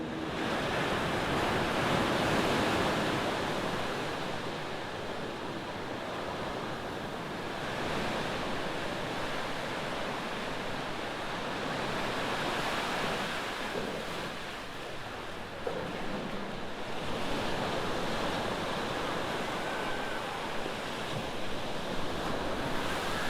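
Ocean surf at Cocoa Beach, Florida washes in as a broad, steady roar of breaking waves with some wind buffeting the microphone and no voices.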